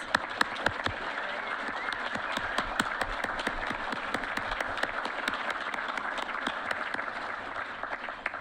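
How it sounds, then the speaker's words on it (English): An awards dinner crowd gives a standing honoree a round of applause. Sharp individual claps stand out from a full, sustained wash of clapping that runs evenly from start to end. "Let's give him a round of applause."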